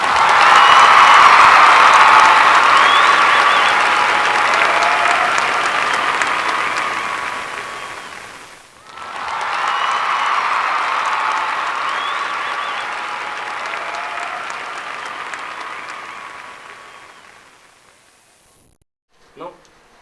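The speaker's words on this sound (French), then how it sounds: "Voir pour voir le public se lever et applaudir ce slam." Audience at a slam poetry performance applauding, loud dense clapping that swells and fades, briefly dips, then surges again before tapering off into near silence.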